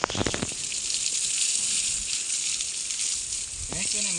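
Water sprayed steadily over tethered buffaloes in a village courtyard, a continuous bright hissing spray that runs for several seconds with brief bursts of talk at the start and end.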